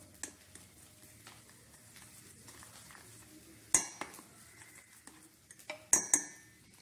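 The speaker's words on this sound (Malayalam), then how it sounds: "നിങ്ങൾക്കൊന്നെങ്കിലും ഫോർക്കിട്ടടിക്കാം അല്ലെങ്കിൽ നിങ്ങൾക്ക് ഇതുപോലത്തെ ഒരു വിസ്ക് ഇട്ടടിക്കാം" Whipping cream powder is being whisked with milk in a bowl, giving light scraping and stirring under a few sharp metallic clinks of the whisk striking the bowl's rim.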